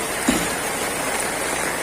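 Rain falling on a flooded road in Gazipur, a steady dense hiss of water with a faint splash early on and no talk.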